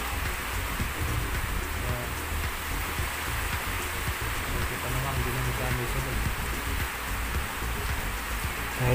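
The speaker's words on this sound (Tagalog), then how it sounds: "medyo malakas ang ulan sa labas kaya hindi masyado marinig yung boses ko." Heavy rain falls steadily outside, a dense continuous hiss with low rumbling that stays at an even level throughout and masks a faint voice underneath.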